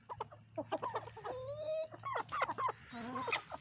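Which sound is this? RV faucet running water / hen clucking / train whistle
hen clucking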